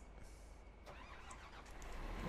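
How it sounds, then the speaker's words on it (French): A farm machine in Farming Simulator 15 starts up, a steady low engine rumble that holds and swells slightly toward the end, with no talk over it. "Donc alors, on va allumer la machine."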